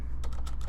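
Rapid keystrokes on a computer keyboard while entering names into a team invite field in Microsoft Teams, a quick burst of several close, clicky taps with no talking.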